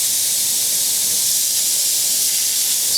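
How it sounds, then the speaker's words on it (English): A steady, loud hiss of a spray gun spraying paint onto a fishing lure, continuous for the whole stretch with no pauses or voices. "let's see what's gonna happen when I spray"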